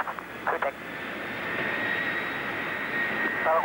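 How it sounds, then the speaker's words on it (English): A Lockheed C-5A military transport jet, number 80-218, takes off with a steady, broad engine roar that swells slightly and holds loud throughout, with brief clatter near the start and end. "The giant C-5A, number 80-218, took off."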